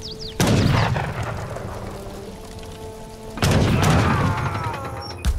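Rifle volleys from defenders on the walls in the Age of Empires 3 video game: two loud, sharp bursts of gunfire, each followed by a long rumbling decay, with no talking.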